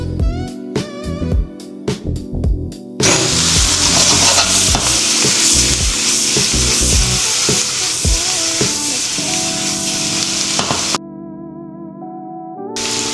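Shrimp for Filipino-style gambas frying in a pan, a loud steady sizzle that bursts in after a few seconds of soft clinks and tones, holding strong and dense before cutting out near the end.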